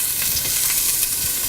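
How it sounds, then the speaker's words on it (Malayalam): Chopped onion dropped into hot oil already seasoned with curry leaves, giving a steady, close, bright sizzle and hiss that runs unbroken and fairly loud throughout. "അരിഞ്ഞു വെച്ചിരിക്കുന്ന ഉള്ളി ഇട്ട് കൊടുക്കുക"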